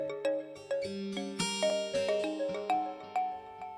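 A phone ringtone plays a bright, repeating melody of chiming notes in a steady rhythm, clear and close with no voices.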